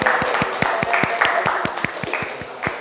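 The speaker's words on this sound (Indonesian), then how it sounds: "Tepuk tangan." Students in a vocational high school classroom clap hands in a quick, rhythmic group pattern, loud and close, with sharp unison claps repeating over a background of voices.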